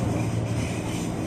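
A KRL Tokyo 8000-series commuter electric train passes overhead on the elevated line at Manggarai station in Jakarta. It makes a brief, loud, continuous low rumble and roar.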